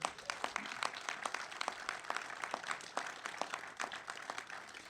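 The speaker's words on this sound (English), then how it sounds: "They deserve a great round of applause" A small crowd at a fire station grand opening in Clarksburg, Maryland claps for firefighters, fairly faint, with distinct individual hand claps ticking in a loose steady rhythm.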